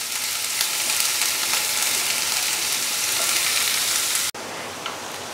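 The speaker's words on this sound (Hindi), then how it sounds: "प्याज को हम 3-4 मिनट हाई फ्लेम में फ्राई करेंगे" Chopped onion frying on a high flame gives a loud, steady hiss and crackle that carries on almost unbroken, with a brief cut near the end. No voices are heard.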